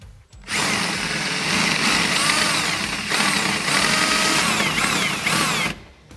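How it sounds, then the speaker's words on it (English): A power drill whines steadily at close range for several seconds, its pitch wavering as it drills out metal rivets on a Can-Am Defender UTV skid plate, then stops. "The first thing that we're going to do is go through and drill out all of the rivets."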